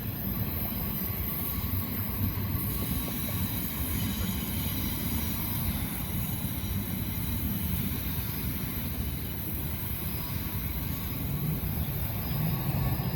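A steady rumble and rattle of a two-mile-long freight train's railcars rolling past at a distance, continuous and unbroken, with faint high wheel squeal above.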